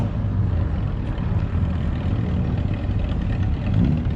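A couple of Mazda rotary-engine cars pull away from a car meet, a steady low engine drone and exhaust rumble that stays fairly constant, with no talk.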